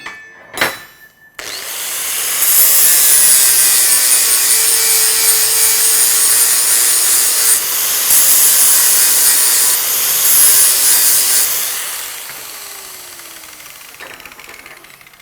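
A flapper pad grinds the bevel of a steel Halligan bar: after a brief knock, a loud, close, continuous abrasive whine runs for about ten seconds, then fades away.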